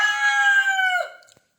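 A hen with chicks makes a single drawn-out, loud call close by. It trails off after about a second, and a couple of short clucks follow.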